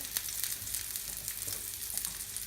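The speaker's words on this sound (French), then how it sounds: "il nous reste sur le fourneau notre magret qui est en train de cuire, pas trop fort." Soft, continuous crackling and sizzling of duck breast (magret) frying gently over low heat on a stovetop, close and quiet.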